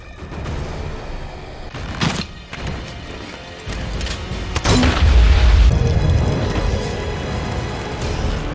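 Loud gunfire and heavy impacts from a horror film soundtrack, a dense series of booms and crashes with sustained rumbling, no talk over them.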